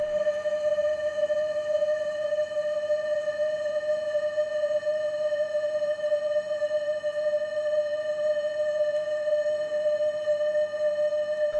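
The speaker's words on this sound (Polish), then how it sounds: "Do telefonu komórkowego nagrywamy z komputera sygnał dźwiękowy o stałej częstotliwości." A steady, unbroken constant-frequency electronic tone played from a mobile phone holds at one pitch throughout, with faint harmonics above it and light background hiss.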